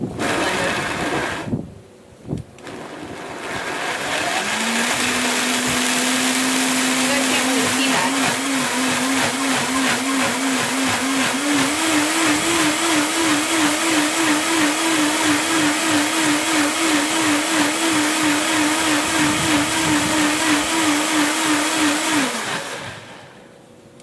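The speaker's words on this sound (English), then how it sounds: "And all we got to do here is put it in the blender." A blender whirs steadily for about eighteen seconds as it purees a fully raw, whole-food fruit jam. The loud motor holds a constant pitch that rises slightly partway through, and a brief spoken remark comes just before it starts.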